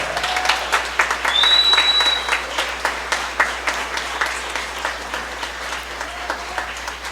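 A church congregation applauds, building into full, dense clapping that then thins into softer, scattered claps as it trails off.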